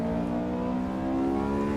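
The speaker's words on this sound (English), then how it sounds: "Like this S2000, this sounds really, really good" A Honda S2000 with stock exhaust and intake, simulated in the Assetto Corsa EVO racing game, holds a steady, smooth engine drone at sustained revs, clear and with no talk over it.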